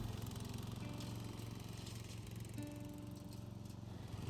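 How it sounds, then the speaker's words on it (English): An old, restored lawn mower that is still partly broken runs steadily throughout, its engine giving a continuous, even drone at close range with no talking. "The actual mower part of it is working pretty well."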